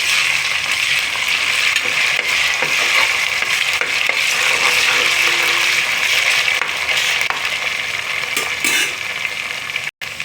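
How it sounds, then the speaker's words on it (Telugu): Onions frying with ginger garlic paste in a pan make a loud, dense, close sizzle with occasional scraping stirs, ending in a sudden brief cut. "ఉల్లిపాయలు అయితే వేగాయండి అల్లం వెల్లిపాయ పేస్ట్ వేసుకుందాం పచ్చివాసన పోవాలి"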